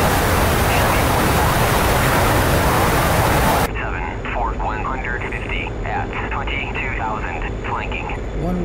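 Engine of a MiG-21bis jet in flight in a combat flight simulator, a loud, steady roaring rush that drops to a quieter hum partway through, with a voice speaking over the later part.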